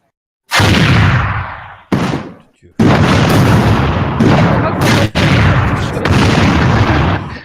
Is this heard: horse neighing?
no